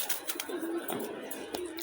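Pigeons with their young, set out in the sun, give soft cooing and brief bird calls that come and go in short, faint bursts close by.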